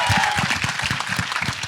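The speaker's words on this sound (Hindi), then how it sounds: "सो जोरदार तालियां हो जाए इसी बात" Audience applause at a Hindi film trailer launch event, brisk and dense clapping from a crowd, steady throughout the short stretch and heard alone without talk.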